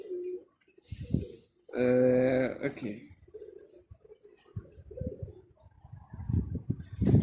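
Birmingham roller pigeons give a short cooing call close by, a brief harmonic coo between stretches of a man's quiet conversation.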